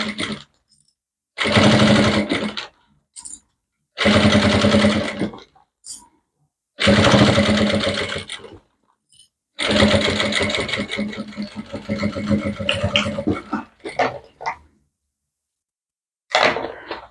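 A sewing machine stitches up the side of a handbag in five or six loud, rapid mechanical runs of a few seconds each, separated by short silences and ending with a brief final burst.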